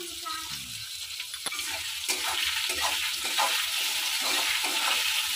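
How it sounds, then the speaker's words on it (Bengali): Potatoes with salt are stirred with a spatula in a hot pan for rohu fish curry, giving a steady sizzle with scattered scraping strokes, alone and fairly loud. "লবণ দিয়ে খুন্তি দিয়ে একটু ভালো করে নাড়াচাড়া করে নিলাম আর কি, আলুগুলোকে মিশিয়ে নিলাম।"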